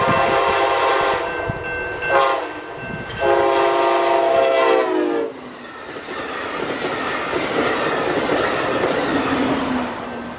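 An Amtrak 350 passenger train led by a Charger locomotive passes close by, sounding loud horn blasts that bend in pitch as it goes, followed by the rolling rumble and clatter of the cars.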